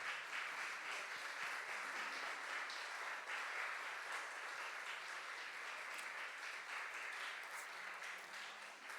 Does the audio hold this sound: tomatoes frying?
no